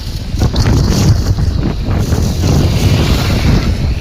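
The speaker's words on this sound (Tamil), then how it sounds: "காற்று செம்மையாக அடிச்சிட்ருக்கு ஃப்ரெண்ட்ஸ்." Strong wind gusts buffet the microphone outdoors during a motorbike ride, a loud, dense, unbroken roar that rises and falls slightly over a few seconds.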